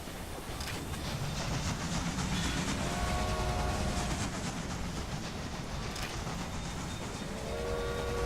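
Train in the Railway Empire video game, set in a Mexico scenario, rumbling steadily with rail clatter and horn-like tonal blasts partway through and again near the end, loud and continuous with no talk.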